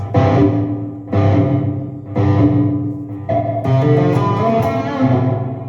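Loud distorted electric guitar chords through a Valeton GP200 reverb effect, struck in a slow rhythm, each ringing out with a washy reverb tail before the next strum.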